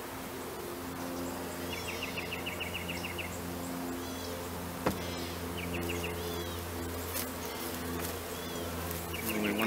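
Bees buzz steadily around an opened, relocated feral hive during an inspection. The hum is close and continuous, with bursts of bird chirps over it and a single sharp tap partway through.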